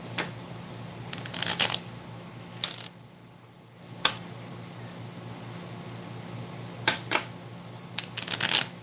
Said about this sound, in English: So I'm going to pull a few cards.